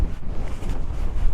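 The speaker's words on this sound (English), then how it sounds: "It's still very windy" Strong wind buffeting the microphone during a winter storm on the Sleeping Bear Dunes along the big lake, a loud continuous roar with low rumbling gusts, no voices.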